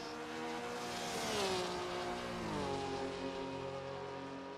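Sim racing cars on the Daytona oval, including a Golf and a Porsche, engines rising and falling in pitch as they rev and pass, a continuous moderately loud whine with no talk.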